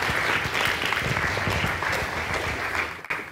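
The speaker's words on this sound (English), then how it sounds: "let's give a round of applause for Robert Gardner." Audience applause at a RedTalks 2023 talk welcoming a speaker to the stage, a steady, dense wash of many hands clapping that continues evenly throughout before tapering slightly at the end.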